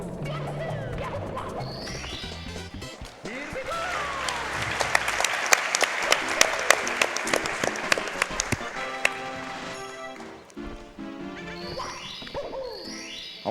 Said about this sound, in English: We gotta clap for everything.